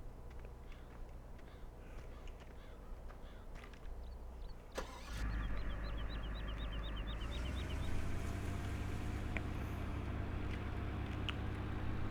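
A truck engine in Farming Simulator 17 cranks with a sharp click and catches, then settles into a steady, loud low idle rumble that continues to the end.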